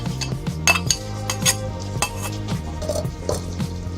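An egg fries in a little olive oil in a pan, with sizzling mixed with close utensil clinks and scraping against the pan, steady and moderately loud under background music.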